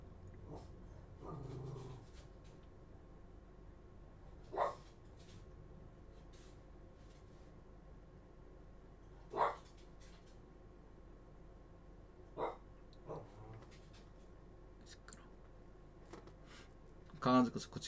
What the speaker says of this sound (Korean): 강아지가 자꾸 짖고 있어서 시끄럽다고 한마디 했어.